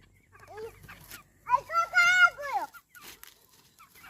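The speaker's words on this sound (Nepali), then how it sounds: "कुखुरा हो" A chicken clucks and squawks close by in short bursts as it is held, with a voice nearby.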